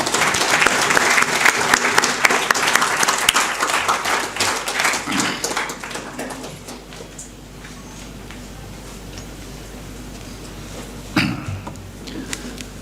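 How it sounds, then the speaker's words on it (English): An audience applauds to welcome speaker Mr Anil Sachdeva, dense clapping that is loud at first, thins out after about six seconds and trails into scattered claps and room noise. "please put your hand together for welcoming Mr."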